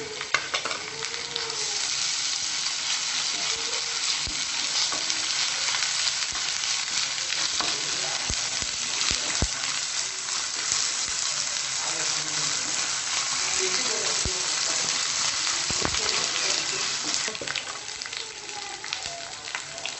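Onions frying in a pan with ginger garlic paste, a loud continuous sizzle with occasional sharp crackles and pops, steady throughout.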